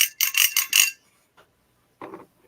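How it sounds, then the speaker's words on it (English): A bell mounted on a beer mug jingles in a quick burst of bright rings, then falls quiet before a brief, softer clatter near the end. "It's a beer mug with a bell on it."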